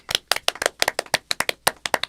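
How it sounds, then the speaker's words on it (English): A single person claps alone at a podcast, about sixteen quick, crisp, close handclaps in a steady rhythm lasting around two seconds. "I'll clap for myself."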